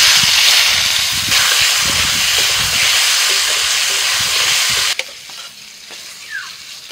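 Soya chunks dropped into hot oil in a wok after potatoes make a loud, dense sizzle with bursts of stirring. It then cuts abruptly to a much quieter, softer sizzle.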